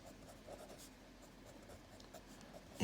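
A pen scratches out a density formula on paper, producing a soft, continuous faint scratching close by, ending with a slightly louder stroke or tap.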